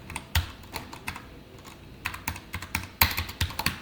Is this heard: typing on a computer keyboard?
yes